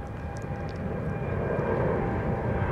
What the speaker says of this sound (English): watching the planes take off and land at the international airport